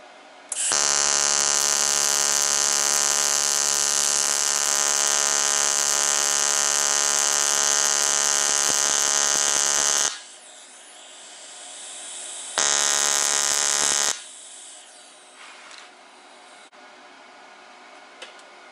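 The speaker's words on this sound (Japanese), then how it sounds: "100A でちょっとじーっとやって、母材が温まってきたらちょっと電流を落として溶接していこうかなと思います" Ikura Seiki Light TIG welder running at 100A on aluminium on household 100V power: a loud, steady electric buzz with dense harmonic whine holds for about ten seconds, cuts out, then returns briefly for a second shorter burst.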